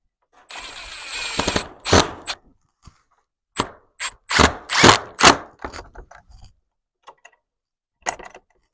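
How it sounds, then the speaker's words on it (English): A drill driving a screw into a small 2x2 wooden board, heard as several short, separate whirring bursts with pauses between them as the screw is seated, close and fairly loud. "I'm going to put one screw in first until I get it lined up where I want it"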